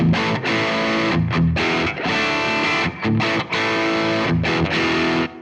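Heavily distorted electric guitar plays chugging high-gain chords through a Boss WAZA Tube Amp Expander's built-in 4x12 cab simulation with a simulated 421 mic, with brief gaps, thick and loud with a boxy speaker-cabinet tone.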